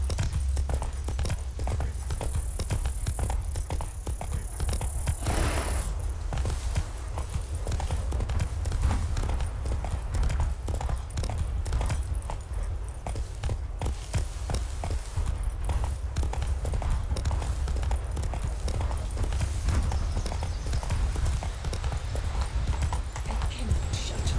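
A horse's hooves clip-clop steadily and continuously in the Witcher 3 video game, with an even, rhythmic trotting beat at moderate level over a low background rumble.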